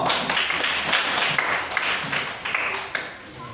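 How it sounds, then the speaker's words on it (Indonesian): Pupils in a third-grade primary classroom clap for a classmate, a fairly dense but uneven burst of hand claps lasting a few seconds, with faint voices mixed in. "Tepuk tangan untuk Koko"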